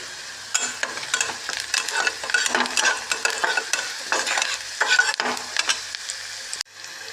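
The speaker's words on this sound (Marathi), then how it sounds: "कांदा भाजून घेतो चांगला थोडं मीठ घालून घेते कांद्यात भाजायला" Salted onions fry and get stirred in a pan, a busy run of scraping strokes over a steady sizzle, fairly close and loud, cutting off abruptly near the end.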